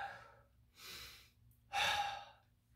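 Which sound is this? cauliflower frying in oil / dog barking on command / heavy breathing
heavy breathing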